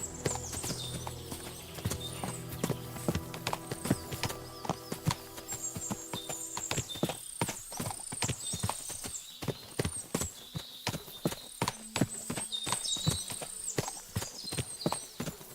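Many horses in Kingdom Come Deliverance 2 clatter past with dense, rhythmic clip-clopping hooves and an occasional whinny, close and busy, with game music and ambience underneath.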